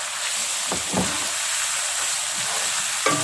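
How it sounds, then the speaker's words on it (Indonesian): Fried bitter gourd is stirred with shrimp and sambal in a hot pan, giving a constant close sizzle broken by a few scraping strokes of a spatula. "selanjutnya di sini kita masukkan pare yang kita goreng."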